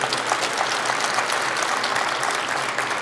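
Steady, full applause from a college alumni meeting audience, many hands clapping at once for several seconds, loud and close with no voices standing out.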